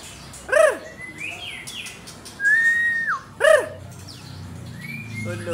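A songbird at a bird-shop kiosk in Condet, Cililitan, East Jakarta gives a few short, loud chirps and whistled calls in bursts over a steady background hum.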